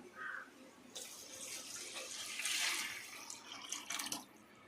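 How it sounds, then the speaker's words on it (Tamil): Tamarind water pours steadily into a pan of sautéed ingredients, splashing and trickling close up for several seconds before tapering off. "அடுத்து புளி தண்ணி சேர்த்துக்கலாம்"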